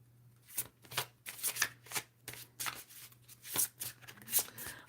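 Otherworld Oracle cards riffle and slap together in repeated bursts of crisp shuffling, close and fairly quiet, with a faint steady hum underneath and no one talking.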